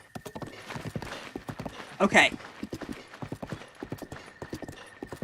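A horse's hooves clip-clop in a steady walking rhythm in Breath of the Wild, with a brief whinny partway through and someone talking over it.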